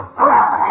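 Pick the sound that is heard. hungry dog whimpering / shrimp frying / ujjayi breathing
hungry dog whimpering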